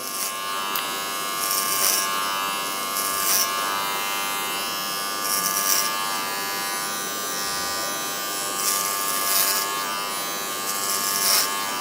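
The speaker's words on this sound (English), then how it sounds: "So the clipper is flat on the head" Electric hair clippers buzz steadily and close up as they cut dry hair in a skin fade. The loud motor drone keeps going the whole time, and its pitch rises several times when the blades bite into the hair.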